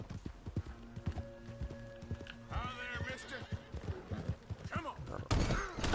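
Horse hooves clip-clopping in Red Dead Redemption 2, an even, steady trot of close hoofbeats running throughout, joined midway by a horse's whinny and someone talking over it.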